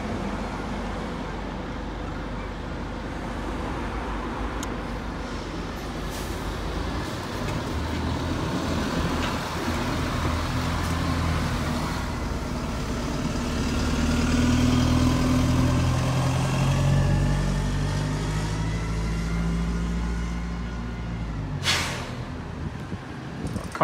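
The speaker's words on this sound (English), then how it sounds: "Country bus coming up now as well." Buses idle and pull through Paignton bus station, a steady diesel drone that builds as one moves nearby and then eases, with traffic noise around and a brief sharp clatter near the end.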